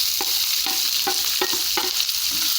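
Chopped onion, green chili and curry leaves tossed into hot oil in a pan, stove just switched off, for Chettinad kara paniyaram: continuous bright sizzle with five evenly spaced spatula strokes against the pan, close and alone.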